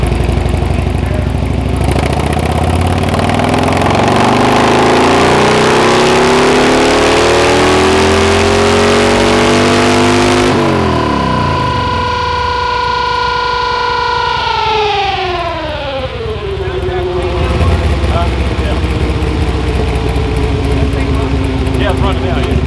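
Harley-Davidson bagger motorcycle engine on a dyno, revving hard with a loud climbing roar that peaks, then winds down in a long falling whine before settling to a steady rumble, close and dominant throughout.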